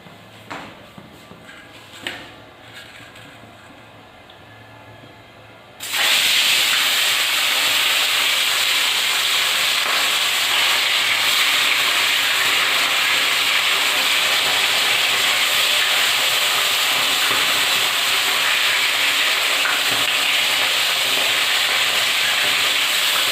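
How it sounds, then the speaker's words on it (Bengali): Fish dropped into hot oil in a kadai, a quiet scrape or two giving way to a sudden loud, sustained frying hiss that stays steady and close to the end. "এর মধ্যে আমি তেল দিয়ে দিয়েছি এবার মাছটা দিয়ে দেবো"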